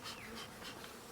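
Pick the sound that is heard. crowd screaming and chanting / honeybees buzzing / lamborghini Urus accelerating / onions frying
honeybees buzzing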